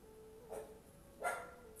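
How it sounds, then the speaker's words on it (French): A dog gives two short, faint barks about a second apart, somewhat distant in a quiet indoor room. "Mon chien qui aboie."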